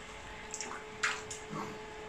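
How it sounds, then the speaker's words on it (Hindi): Water is poured from a jug to bathe a child at home: a few short, soft splashes and trickles close by, separated by brief quiet gaps, with a faint steady hum underneath. "जग में जो पानी मैं भर रही हूँ"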